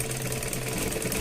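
A sewing machine runs steadily, stitching the lining of a blouse, a close, continuous mechanical whir with no pauses and no voices over it.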